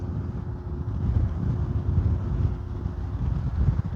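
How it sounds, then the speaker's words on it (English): Gusty wind rumbles steadily across the microphone at an RC plane flying field, rising and falling slightly, with no talking. "It is windy."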